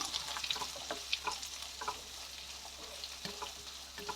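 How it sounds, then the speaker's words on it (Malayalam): Papaya and onion thoran stir-frying in a pan gives a soft, steady sizzle, with light scraping taps from stirring scattered throughout. "അരിഞ്ഞു വെച്ചിരുന്ന പപ്പായയും ഉള്ളിയും ഒക്കെ കൂടി നമുക്ക് ഇതിലേക്ക് ചേർത്ത് കൊടുക്കാം. ഇനി നന്നായിട്ട് തന്നെ ഒന്ന് മിക്സ് ചെയ്യാം."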